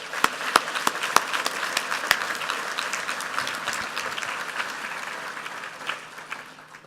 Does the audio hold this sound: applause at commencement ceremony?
yes